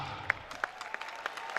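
Audience at a school farewell party clapping in rhythmic unison, sharp regular claps about three per second, moderately loud and close, with a voice underneath at the start.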